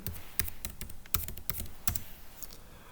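Quiet, quick tapping on a computer keyboard while entering a password in a Linux Mint terminal, a short burst of keystrokes in an irregular rhythm, close up with no voices.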